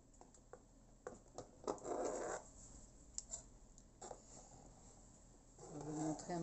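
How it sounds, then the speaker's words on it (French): A homemade Hagrid-themed birthday cake being cut with a knife, giving soft scraping and scratching strokes in short bursts, with a quiet pause in the middle and faint voices in the background. "on coupe le gâteau"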